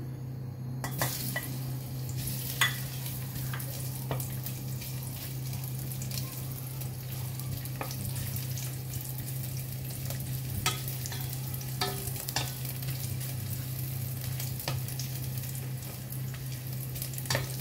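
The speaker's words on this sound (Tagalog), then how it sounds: "Gisa lang natin ang luya until become golden brown." Ginger sautés in a little oil in a pan, giving a continuous low sizzle over a steady hum, with scattered close clicks and scrapes of a utensil stirring throughout.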